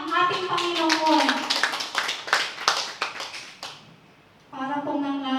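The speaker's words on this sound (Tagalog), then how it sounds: "bigyan po natin ang isang malakas na palakpak ang ating Panginoon" Congregation clapping at a church service, with a burst of sharp claps under singing that dies away, then the singing voice returns alone.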